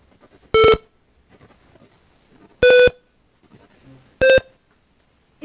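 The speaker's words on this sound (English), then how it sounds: "each button has different buzzer sounds" An Arduino board's buzzer sounds three separate short, loud tonal beeps, evenly spaced about two seconds apart, with faint clicking between them as its buttons are pressed.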